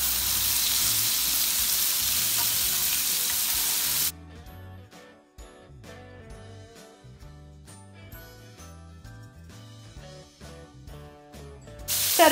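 Horse mackerel frying on skewers: a loud, steady, hissing sizzle that fills the first few seconds, then drops to a softer crackle with scattered pops and faint tonal sounds behind it.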